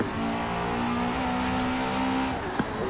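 A Ferrari F40 Competizione accelerating hard in the racing game Forza Horizon 4, its engine a loud, steady, high-pitched drone that climbs gradually, with a brief thump near the end and no talking.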